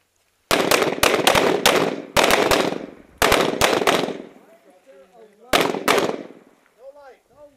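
Volleys of rapid gunshots from several shooters firing together on command at an outdoor shooting range, sharp and loud in three quick bursts and a fourth after a pause, with a voice talking between volleys.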